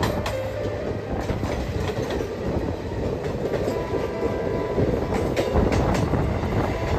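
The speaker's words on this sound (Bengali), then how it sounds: "এটা হলো আপ 310 এক্সপ্রেস, নিউ আলিপুরদুয়ারের গাড়ি।" The Up 310 Express to New Alipurduar running along the rails, a loud continuous rumble with rhythmic clickety-clack from the wheels and occasional faint squeals, steady from start to end with no talking.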